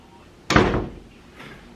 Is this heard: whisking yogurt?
no